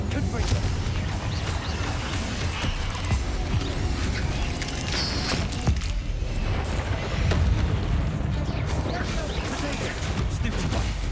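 Confringo fire-blast spells cast during combat in Hogwarts Legacy, a dense run of booming magical bursts and crackles layered over continuous game music and effects, steady and loud throughout.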